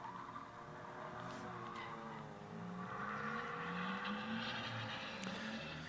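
A supercharged 2-litre Ford-derived Duratec-engined race car drones on track at Donington Park, its engine note rising and holding steady at a moderate distance, with faint tire noise.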